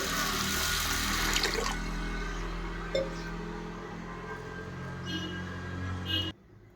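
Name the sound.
washing rice with water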